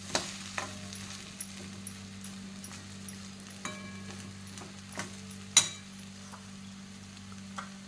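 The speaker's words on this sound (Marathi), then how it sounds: "उपेट चांगलं शिजलं आहे मिक्स करायचं आहे" Cooked rava upma being stirred in a pan, a regular series of soft spoon scrapes and taps about every half second over a low steady hum, close by.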